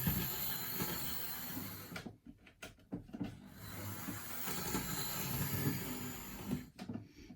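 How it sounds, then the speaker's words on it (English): A Hornby model locomotive rolling back and forth on track, a faint continuous mechanical whir and rattle broken by short pauses as it changes direction. "I'll just give her a few rolls back and forth, just help her warm up a bit and get her loosened up a bit"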